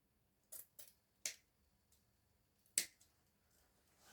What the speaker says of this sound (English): So I'll cut them